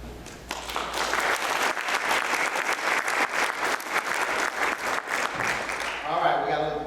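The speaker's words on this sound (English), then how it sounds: "I think we need to give them another round of applause." Audience applause fills a hall at a military retirement ceremony, dense and sustained for several seconds before tapering off, with a voice starting to speak over it near the end.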